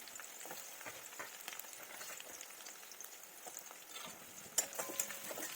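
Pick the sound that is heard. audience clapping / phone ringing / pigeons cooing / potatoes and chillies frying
potatoes and chillies frying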